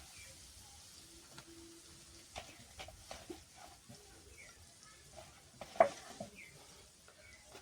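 Chicken and chili being stirred in a frying pan for a Bengali chicken bharta, with a faint sizzle, scattered utensil scrapes and clinks, and one sharper knock near the end; no talk.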